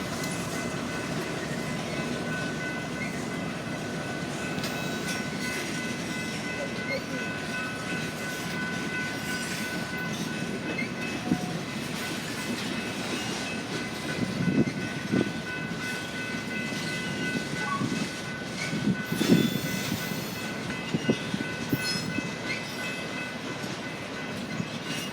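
A freight train rolls steadily past near Rosenberg, its wheels clicking and clacking over rail joints in a continuous rumble, with a louder stretch of clatter toward the end.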